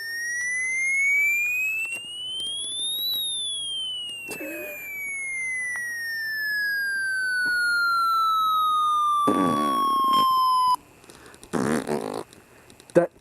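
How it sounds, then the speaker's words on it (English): An electronic siren tone from a Midland HH50 handheld radio sweeps upward, then glides slowly down in pitch from its small speaker, with a few clicks and handling noises between. "That's pretty much the siren test on the HH50."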